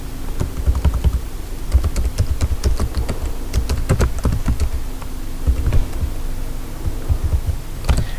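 Computer keyboard keys clatter in quick irregular bursts of crisp taps, close and moderately loud over a faint steady hum, with short pauses between flurries.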